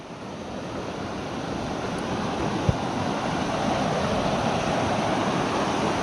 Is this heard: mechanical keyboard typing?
no